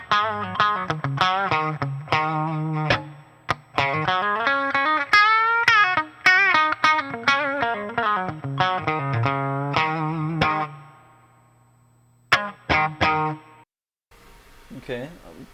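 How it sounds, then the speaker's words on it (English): Electric guitar through a B-52 ATX100 tube amp playing chords and melodic runs with distortion and a moderate spring reverb tail set about a quarter up, loud and close, with a brief pause near the end. "turn up the reverb and hear how that sounds to about 1/4 of the way"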